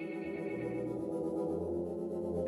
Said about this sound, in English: we're going to hear only the delay coming into that reverb